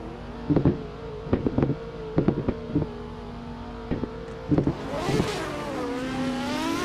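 Corvette and S15 drift cars in a drift series battle, a series of sharp engine revs and bouncing rev-limiter bursts, building into a sustained rising roar with tire squeal toward the end, heard from a distance.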